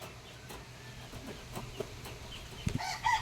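Gamefowl chickens in a cage cluck and murmur softly at moderate distance, with a few sharper clucks building toward the end over low background noise.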